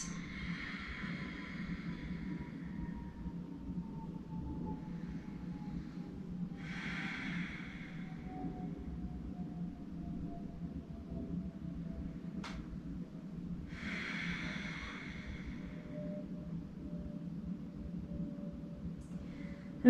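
Slow, quiet breaths drawn during a vinyasa yoga practice, with about three soft airy inhale-exhale swells spaced evenly over a low, faint background hum.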